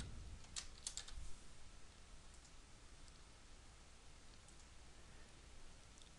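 Button text is typed on a computer keyboard as a short flurry of soft key clicks near the start, followed by a few isolated taps over faint, steady background hiss.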